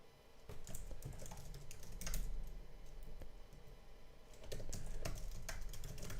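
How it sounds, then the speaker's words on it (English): Faint, quick typing on a computer keyboard, keys clattering in irregular bursts and short runs with brief pauses between. "I'm going crazy with this typing"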